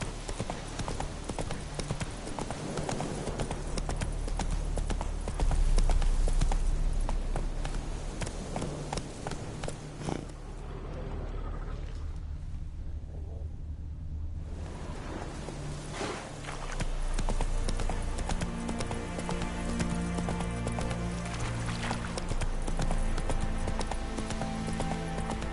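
In the game The Witcher 3, the horse Roach's hooves clip-clop in a steady rhythm, quieting briefly midway before resuming, with a short spoken line over them.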